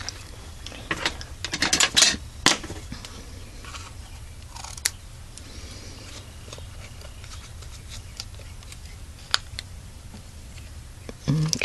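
Scissors snip ribbon ends on a handmade peek-a-boo window card, a few sharp close cuts clustered early, then quieter isolated clicks and rustles of paper.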